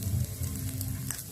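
Fried rice sizzling in a pan, a brief, steady, close crackling hiss with a low rumble underneath and no voices.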